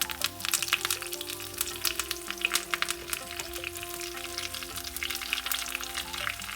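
Mustard seeds, fenugreek, cut dried chillies and curry leaves frying in hot oil for a Kerala-style cucumber moru curry: dense, continuous crackling and spluttering, close and lively, over a steady tonal background.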